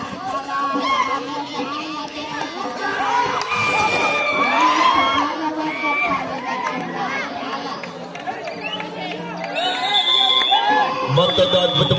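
Spectators at a village kabaddi semi-final match cheering and shouting in a loud, continuous crowd roar with whoops and overlapping voices, swelling again near the end.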